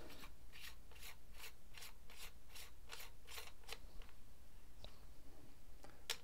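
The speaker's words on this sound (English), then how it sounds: "Put the end cap back on." End cap being threaded back onto an AAC Tirant 45 suppressor, giving a steady run of close, crisp metallic scraping strokes about every half second, then a few scattered clicks, with no talking.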